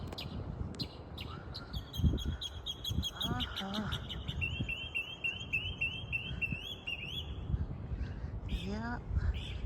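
Several birds sing outdoors in the morning, with repeated bright chirps, trills and a sustained warbling phrase. They sound moderately near and carry on under people talking and low background rumble.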